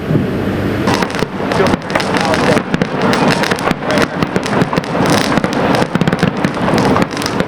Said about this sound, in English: Sam, luckily the fireworks show did go on here at Cal Expo tonight